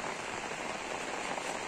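Steady rain falls in a forest in the morning, a dense, even hiss of drops on leaves and ground with no pauses or voices.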